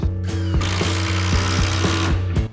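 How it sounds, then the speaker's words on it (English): A power drill pre-drills small holes, about 5 mm, into the wall lining of a shed workshop. The motor hums loudly and steadily, with brief dips and restarts as it bites into the lining. "I'm only pre-drilling into the wall lining, probably like 5 mil"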